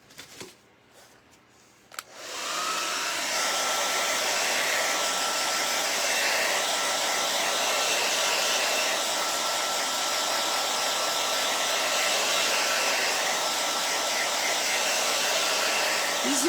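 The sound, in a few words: hair dryer drying paint on toy truck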